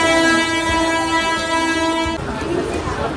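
A train at Thane railway station in Mumbai, heard as a loud sustained horn blast that cuts off after about two seconds, leaving rumbling platform and rail noise.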